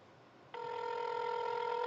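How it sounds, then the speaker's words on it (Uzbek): An unanswered outgoing telephone call gives a steady electronic ringback tone that starts suddenly and holds on continuously, clear and close over faint background hiss, with no voices. "Gudok ketmoqda."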